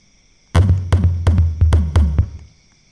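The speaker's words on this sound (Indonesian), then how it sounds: "Suaranya seperti ini guys," A short drum fill in a DJ dance music track, six punchy hits in quick succession, loud and close, then silence.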